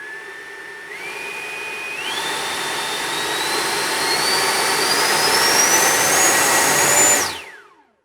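An FMS 80mm electric ducted fan RC jet spooling up in a throttle test, a whining tone rising in steps to a loud, high-pitched roar before cutting off and winding down quickly.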